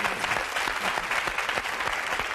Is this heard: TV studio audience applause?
yes